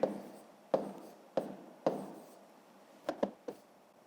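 Chalk or pen strokes writing the number 273 during a fifth-grade math lesson, heard as several sharp taps and short scratchy strokes in quick bursts, close and fairly quiet, with no talking.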